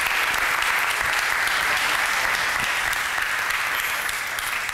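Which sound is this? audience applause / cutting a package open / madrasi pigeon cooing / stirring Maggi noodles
audience applause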